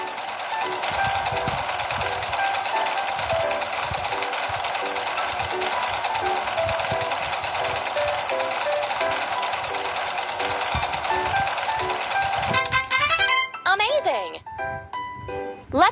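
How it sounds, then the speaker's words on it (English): A sewing machine runs steadily while it stitches doll pants pieces together, a continuous mechanical whir that stops near the end. A few chimes and clicks follow. "Let's sew the pants pieces together."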